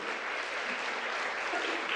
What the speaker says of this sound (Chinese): 我们拍手来赞美主